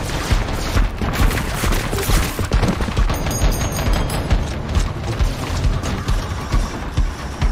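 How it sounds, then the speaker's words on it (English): Relentless artillery fire from the Warhammer 40k Death Korps of Krieg, a loud, dense fusillade of booms and rapid gunshots rolling continuously with no pauses. "Yes, artillery!"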